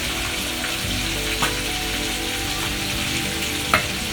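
Fish frying in hot oil for a Sri Lankan fish chukka curry, a steady close sizzle and crackle running without a break, with a couple of sharp pops standing out, no voices.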